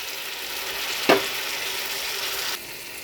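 Mustard paste and turmeric hit hot oil with fried onions in a pan, a sharp splash-like hiss followed by a steady close sizzle that drops off near the end.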